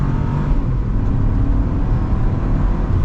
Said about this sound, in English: setting off now in the Buick Envista. Pedal to the floor.